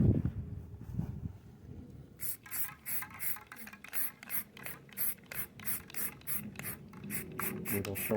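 Spray paint hisses in a series of short, quick bursts onto an AR-10 rifle's rail mounts and crevices. About fifteen evenly spaced bursts follow a quieter opening with low handling noise.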